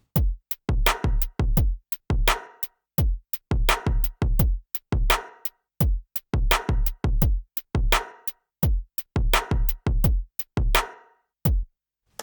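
Clean, dry programmed drums in Logic Pro without saturation, playing a tight repeating kick, snare and cymbal pattern with sharp, distinct hits and short decays, clear and alone.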